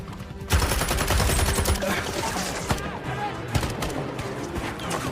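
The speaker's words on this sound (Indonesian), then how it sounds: "kini Kolya pun kembali diserang dengan serentetan peluru oleh musuh" Rapid gunfire from a war film about a pilot, loud and dense, with bursts and sharp cracks rattling over a busy battle soundtrack, and no clear talk.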